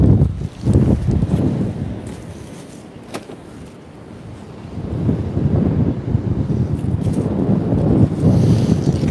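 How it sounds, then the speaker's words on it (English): Strong 40 mph wind batters a shore-fishing spot on Trimingham Beach, a heavy buffeting roar that pounds the microphone in surging gusts, easing briefly midway and then building again, with surf faintly underneath. "Don't know how the sound is good with this wind. It's absolutely howling."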